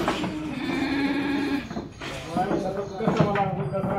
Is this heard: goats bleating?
yes